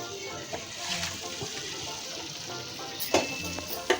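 Paneer pieces dropped into fried spices in a pan, giving a continuous close sizzle with scraping stirs and a sharper spatter of frying near the end, no voices.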